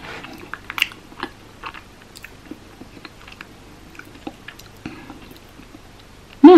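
Close-up chewing of strawberry yogurt white chocolate during an eating session, with soft crunches, squishy bites and mouth sounds in an uneven rhythm and a louder burst of noise at the end.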